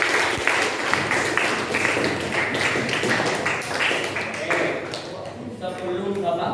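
Eighth-grade students in a classroom clap in a lively burst that thins out after a few seconds, and a voice then begins talking as the applause fades.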